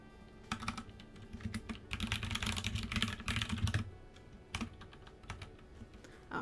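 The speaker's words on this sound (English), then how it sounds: "I'm typing out a post." Rapid clattering keystrokes on a computer keyboard, close and fairly loud, in dense bursts with brief pauses, the busiest stretch in the middle followed by a few scattered taps; no voices.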